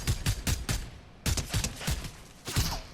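Rapid bursts of gunfire in the video game Fortnite during a sniper encounter, three clusters of quick shots separated by short pauses, fairly quiet.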